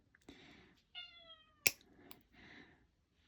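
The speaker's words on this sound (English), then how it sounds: "I'm ever so sorry about my cat." A pet cat meows several times indoors, a series of close, distinct calls separated by short pauses, with a sharp click partway through and quiet room tone around them.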